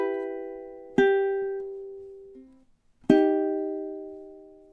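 Ukulele plucking measure 7 of a song, two clear ringing strums about two seconds apart, each decaying slowly, played alone without talk.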